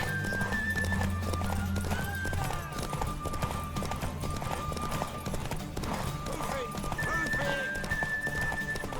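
Game audio from The Witcher 3 of clattering horse hooves with whinnies over music, with voices talking at times.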